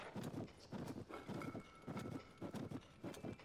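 A horse's hooves clip-clop at a steady walking rhythm in Zelda: Tears of the Kingdom, regular paired beats repeating quietly and evenly with no talk over them.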